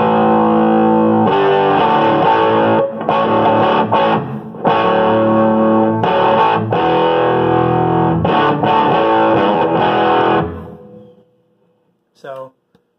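An electric guitar plays crunchy, distorted chords through the bass channel of a Gibson GSS100 amp, with dark, thick strums and short pauses for about ten seconds before ringing out into silence.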